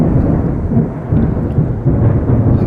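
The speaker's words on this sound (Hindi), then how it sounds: "हमेशा बारिश आती है लाइटनिंग थंडर के साथ, हमेशा।" A Texas thunderstorm rumbles loudly and continuously, deep rolling thunder mixed with the hiss of steady rain, with no voices.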